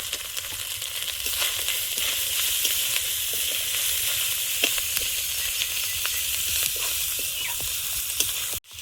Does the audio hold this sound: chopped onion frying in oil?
yes